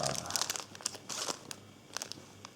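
A package of wet wipes crinkles in close handling, producing several brief, sharp plastic crackles in uneven bursts at a quiet level.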